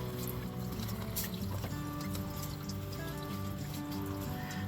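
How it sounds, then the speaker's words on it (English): Engine coolant from a Dodge engine block draining into a pan, a faint steady trickle and splatter of liquid under a low background hum. "So you can hear it running. You can hear it running in my pan down there."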